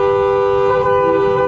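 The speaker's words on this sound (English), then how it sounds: "They were all honking their horns and hollering" Car horns honk in a street at night as neighbours welcome a returning hospital patient home, a loud, sustained blaring horn tone held steadily throughout the short stretch.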